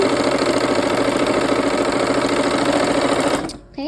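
A sewing machine stitches a pumpkin quilt block with a steady, fast, close mechanical chatter that runs almost the whole time, then stops abruptly near the end.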